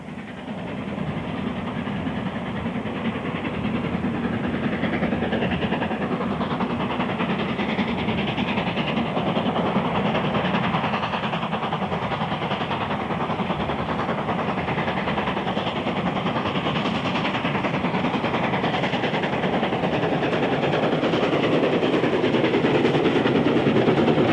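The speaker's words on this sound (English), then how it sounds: "the Pacific makes a splendid sight climbing the long drag on a northbound run over the Settle and Carlisle" The Pacific steam locomotive Princess Margaret Rose works hard on a northbound climb over the Settle and Carlisle line, a loud, continuous churning roar building slightly as the train passes nearby for over twenty seconds.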